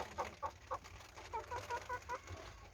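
Village chickens out in the rain giving a series of soft clucks at an uneven pace, fairly close, over a steady background hiss of rainfall.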